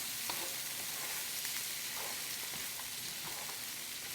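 Frozen peas and carrots frying in a wok over high heat, a steady bright sizzle with faint occasional stirring clicks, no talking.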